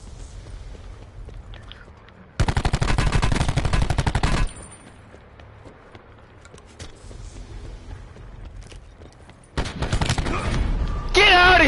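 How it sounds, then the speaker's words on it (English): Rapid gunfire in a video game comes in two loud, sustained bursts of dense crackling shots separated by quieter stretches, with a voice briefly audible near the end. "That shotgun should not be good at that fucking range."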